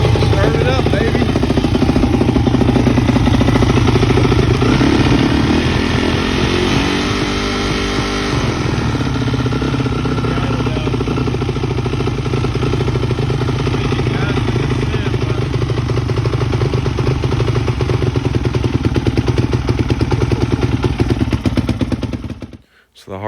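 A Yamaha YZ426 dirt bike engine runs loud and close for about twenty seconds, a steady rough four-stroke rumble with a fast popping beat that holds at a constant idle before cutting off abruptly near the end.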